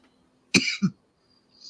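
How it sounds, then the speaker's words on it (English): A woman coughs twice in quick succession, close and fairly loud, a sharp first cough followed by a shorter second one in an otherwise quiet room. "I'm always coughing."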